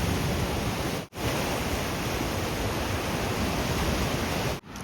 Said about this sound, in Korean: 조금은 거친 파도 소리를 들으면서 이사부기를 가는데요